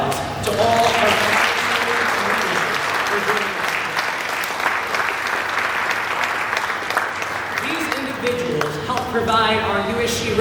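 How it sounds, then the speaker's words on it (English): A large student-government audience bursts into sustained, dense applause with a few faint voices underneath, and a speaker's voice returns as the clapping fades near the end. "please provide a huge round of applause"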